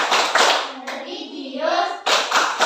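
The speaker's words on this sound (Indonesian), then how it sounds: "coba tepuk PPK" A class of schoolchildren performs a rhythmic group clap routine, sharp bursts of clapping at the start and end with a chanted passage of children's voices in between, loud and close in a room.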